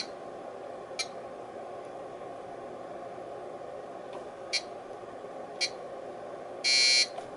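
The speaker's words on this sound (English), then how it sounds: "That beep sounds like it means something, doesn't it?" A Korad KA3005P bench power supply gives several short electronic beeps alone over a steady background hiss, spaced a second or so apart, ending in one longer, louder buzzing tone.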